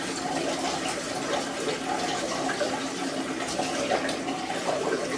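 Wort being slowly transferred while brewing a Mangrove Jack Northern Bitter beer, a steady, close pouring and gushing of liquid that runs evenly throughout with no talk.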